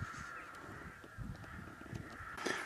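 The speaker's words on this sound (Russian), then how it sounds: "2013 год, очень много грачей." Rooks caw from a large flock in an autumn field at Poteryaevka, a steady mass of overlapping calls with a constant high hum, rising to a louder burst near the end.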